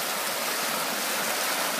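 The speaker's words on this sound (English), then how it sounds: "Oh yeah, you can still get to the good spot of the creek." A backyard creek rushes steadily, a soft, even wash of flowing water with no break.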